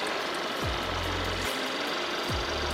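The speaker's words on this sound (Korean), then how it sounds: "엔진 소리 일정하고 좋습니다" A Volkswagen Golf Mk6 1.4 TSI engine idles steadily up close, a low even hum with a couple of brief revving dips and rises.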